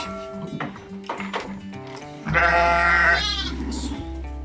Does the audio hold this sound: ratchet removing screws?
no